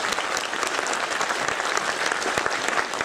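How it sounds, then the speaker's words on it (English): An audience at a panel discussion applauds the panelists with sustained, even clapping that fills the room from start to finish. "please give them a warm round of applause for all their valuable contributions"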